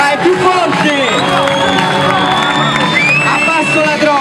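A crowd of students at a school event with a guest DJ cheers, whoops and shouts loudly, with some clapping mixed into the continuous noisy din.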